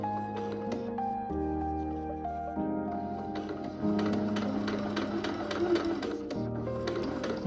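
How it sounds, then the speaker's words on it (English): A sewing machine top-stitches along a bra boning channel in steady mechanical runs under quiet background music, sounding close and continuous. "I'm just sewing or top stitching the outer side of the boning channel"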